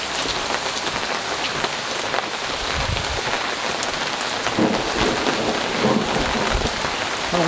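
Heavy rain pours steadily in Oslo, Norway, a loud dense hiss with rumbling thunder rolling underneath during an extreme thunderstorm.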